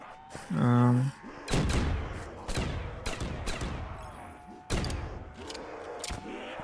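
Gunfire in the VRChat game Zombies Trinity comes as a series of loud, spaced cracks and booms, mixed with a brief tonal game effect and some background voices.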